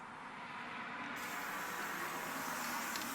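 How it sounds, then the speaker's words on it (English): Spray adhesive hisses steadily from an aerosol can onto a pumpkin being decorated with glitter, a continuous close broadband spray with no pauses. "So first we just use some spray adhesive."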